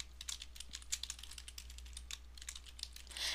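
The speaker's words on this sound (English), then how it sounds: "I'm just typing it in here." Quick, steady typing on a computer keyboard as field names are entered into a database table, a close run of light clicking keystrokes with no talking.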